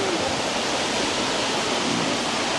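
Flowing water rushes in a steady, loud, unbroken wash of broadband noise that runs through the whole short stretch, with no voices over it.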